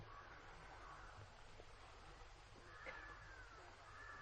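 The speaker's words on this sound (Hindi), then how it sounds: "यहां इतने पक्षियों की आवाजें हैं" Birds call in a forest over a steady wash of background noise, with a few faint, scattered chirps and calls at a distance and no talking.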